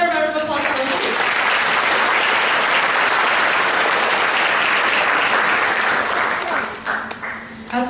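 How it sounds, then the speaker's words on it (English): A crowd at the RHS National Honor Society spring celebration gives loud, sustained applause for the honor society members. The clapping holds at full strength for several seconds, then tapers off near the end. "So, another round of applause for them"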